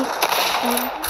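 Weapon reload in an online shooter game: a short run of quick mechanical clicks and metallic ratcheting, close and moderately loud, with a faint tone near the end and no voices.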